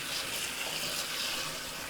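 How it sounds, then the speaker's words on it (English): Tap water running steadily into a bowl or sink while rice is washed, a continuous close hiss and splash with no talk. "you should wash this with the water to get the"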